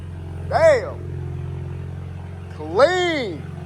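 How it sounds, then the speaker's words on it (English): A Ford Bronco 2.3L with an SPE Motorsport straight-pipe axle-back exhaust idles with a steady low drone, broken by two sharp revs that climb and fall, one early and one near the end, while people exclaim nearby. "So that's your SPE axle back exhaust."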